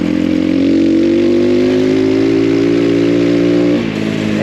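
An X Pro Storm 150 DLX micro dual sport pit bike being ridden, its small single-cylinder engine giving a steady buzzing drone close by that holds pitch, then dips briefly near the end.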